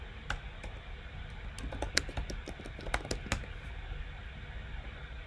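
Fast, quiet tapping on a computer keyboard while an email address is entered, with irregular clusters of keystrokes over a faint background hum and no talking.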